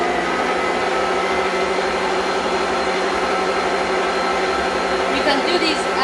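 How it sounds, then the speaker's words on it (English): An electric mixer creams butter and sugar for a lemon drizzle cake at medium to high speed, giving a steady, close whirring drone throughout, with a voice talking over it. "You can do this at medium to a high speed, depending on the type of mixer you have"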